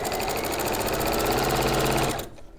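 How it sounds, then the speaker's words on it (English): Sewing machine stitching fast at a home quilting session, a loud steady rapid whirring drone that runs continuously and then stops abruptly near the end. "Don't sew as fast as this."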